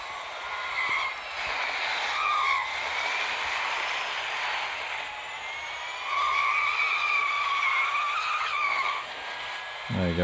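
Tires screeching in a racing video game as a car skids around a circuit, a sustained squeal wavering in pitch for several seconds with engine noise underneath and a voice talking over it.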